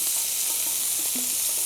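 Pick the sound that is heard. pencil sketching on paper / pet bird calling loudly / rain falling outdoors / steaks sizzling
steaks sizzling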